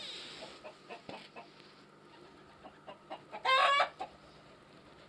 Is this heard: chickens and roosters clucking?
yes